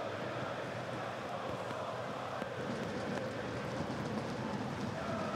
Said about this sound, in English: Tough not to have a muddy pitch with all this rain.